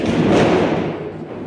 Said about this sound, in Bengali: বাইরে আতসবাজি ফাটানো হচ্ছে